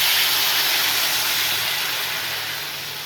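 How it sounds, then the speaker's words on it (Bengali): Water poured into a hot pan for a light fish curry, a loud steady sizzling hiss that slowly fades as it settles. "এবারে দেখো ঝোল দিয়ে দিচ্ছি"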